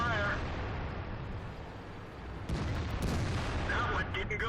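Tank cannon firing in the video game World of Tanks, a sharp booming shot at mid-clip over steady engine rumble and game noise, with brief electronic voice cues.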